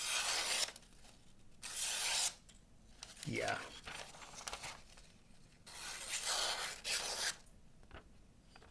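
A freshly sharpened knife slices through thin foam book paper, making several quiet, close hissing scrapes in separate bursts of about a second each, with a brief murmured word in between.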